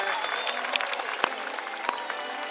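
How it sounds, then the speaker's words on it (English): Audience applause at a SeaWorld San Diego orca show, a dense wash of clapping with a few sharper claps standing out, steady and fairly loud throughout, with no talking over it. "Everyone give her a round of applause."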